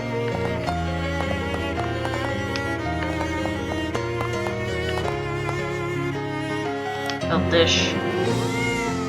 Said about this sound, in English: New cat unlocked. You can now pet Hecate to receive a boon.